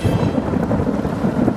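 Heavy rain pours down in a dense, steady roar as a thunderstorm rumbles low beneath it. The sound is loud and unbroken, with no voices.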